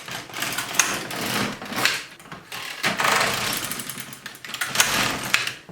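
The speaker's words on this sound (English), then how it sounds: "then we can just go ahead and start knitting" An LK150 knitting machine carriage makes repeated passes while knitting a pocket, each pass a loud mechanical rattling sweep with short pauses between strokes, heard close and alone.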